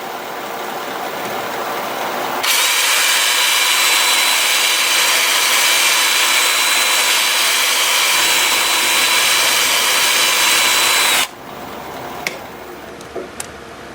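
An apricot wood bowl is polished on a wood lathe, giving a loud, steady whirring hum that switches on sharply, runs evenly for several seconds, then cuts off, leaving a few small knocks.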